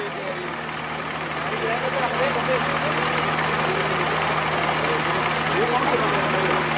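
An HMT 5911 tractor engine idles with a steady low diesel chug and knocking throb, running continuously close by while people talk over it.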